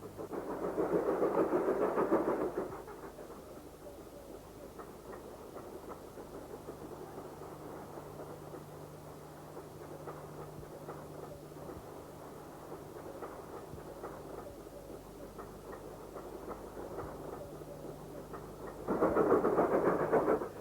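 A Black 5 steam locomotive hauls the evening freight train out of Oban, a steady rumbling roll with a faint low hum, swelling louder at the start and again at the end as it passes near.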